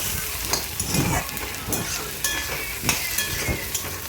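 Potatoes, tomatoes and onions sautéing in a pan, a close, busy sizzle with repeated scraping strokes from stirring, no voices heard.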